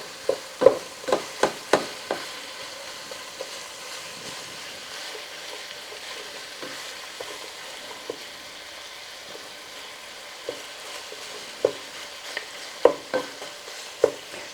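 Hamburger meat and onions fry in a pan with a soft, steady sizzle, broken by sharp scraping and stirring clicks in bursts near the start and toward the end.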